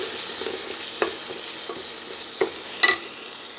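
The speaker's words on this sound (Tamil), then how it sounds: "இதோட பச்சை வாசனை போகிறதுக்கு இது ஒரு 2 நிமிஷம் வதங்கட்டுங்க" Onion and ground paste sauté in a pan with a soft steady sizzle, broken by a few light stirring clicks and scrapes.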